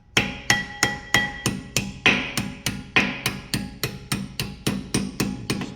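A hammer taps a Brembo brake caliper pin in a steady run of about fifteen sharp metallic strikes, evenly spaced roughly twice per second, each ringing briefly and heard close up.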